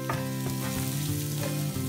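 Onion and papdi beans sizzle steadily in hot oil as they are sautéed for a quick home-style bhaji, a dense continuous frying hiss with faint stirring scrapes and no talking.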